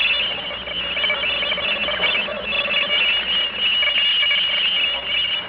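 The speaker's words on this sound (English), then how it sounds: "The next sound you hear is coming from outer space." An eerie radio-drama noise pattern meant to come from outer space: a continuous, high, warbling electronic tone over a hiss, steady and fairly loud with slight wavering pulses and no voices.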